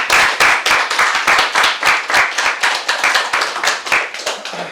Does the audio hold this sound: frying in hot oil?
no